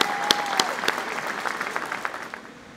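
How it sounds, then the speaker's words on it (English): Applause at a 2021 high school commencement ceremony honoring graduating students: a thin patter of clapping from a modest crowd that fades out toward the end. "Let's give these students a round of applause,"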